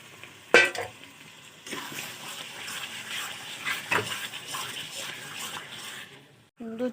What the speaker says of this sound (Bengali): এখন দিয়ে দিব আগের থেকে মেখে রাখা মাংসগুলো। মাংস থেকে ভালো করে কষাতে হবে।